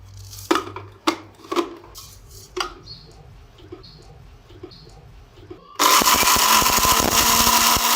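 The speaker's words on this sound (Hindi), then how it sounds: "अब हम इसको ग्राइंड कर लेंगे।" Electric spice grinder running on black pepper, white cumin and dried coriander seeds in a home kitchen, a loud steady whirring grind that kicks in abruptly after a few scattered knocks and clatters of seeds and jar being handled.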